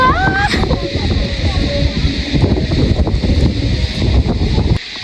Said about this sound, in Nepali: कस्तो चिसो हावा चलिरहेको